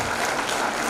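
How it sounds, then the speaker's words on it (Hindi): An audience at an event applauds loudly, a dense and unbroken burst of clapping that fills the moment without any voice over it. "एक बार फिर से जोरदार तालियां।"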